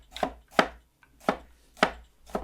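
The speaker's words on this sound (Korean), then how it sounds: "그냥 도마에다가 다지겠습니다." Half a tomato being chopped with a knife on a cutting board, five crisp, separate knife strikes at an uneven pace, close and clear with no talking.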